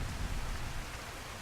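Steady, heavy video game rain pours down in a dense, hissing wash with a low rumble beneath, constant throughout and no voices.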